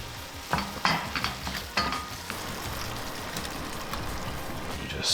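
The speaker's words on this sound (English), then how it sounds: "You just stir this shit up." Roasted tomato sauce and pasta get stirred in a pan, a wet sizzling scrape with a few louder clanks early on, then a steady soft frying hiss, with faint talk underneath.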